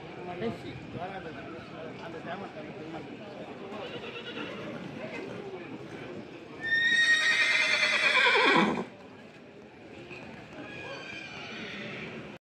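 A horse neighs loudly and close at a temple festival in Tamil Nadu, one long whinny over a few seconds, set against steady crowd murmur and talk.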